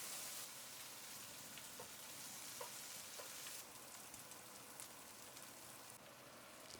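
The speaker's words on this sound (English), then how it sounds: "Then add the eggs into the pot and fry everything on high heat for 2" Eggs frying in a pot on high heat for a spicy Indian egg curry, a steady close sizzle with a few faint stirring taps.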